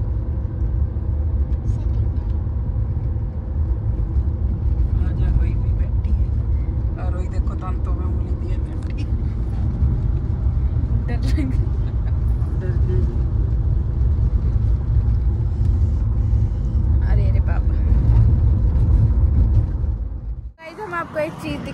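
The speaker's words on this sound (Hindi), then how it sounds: "फिर आज किट्टू गाड़ी चला रही है" A car drives along a road from Nainital toward Dehradun, with a steady low rumble of engine and road noise throughout, heard from inside the vehicle, and voices talking over it.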